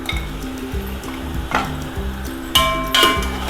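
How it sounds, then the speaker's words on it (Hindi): Chicken sizzles in a pan with chillies, nigella seeds and fenugreek seeds while being cooking for biryani, with steady frying and clinks of a stirring spoon against the pot. "अब मैं करूँगी अच्छे से चिकन को फ्राई।"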